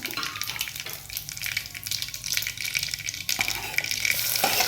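Mustard seeds, cumin and curry leaves sizzling in hot oil for a spicy katachi amti dal, a bright crackling fry that stays steady and close, picking up near the end, with no voices.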